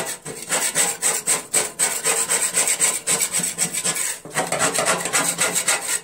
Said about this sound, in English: Using my scraper. It's called the Grass Buster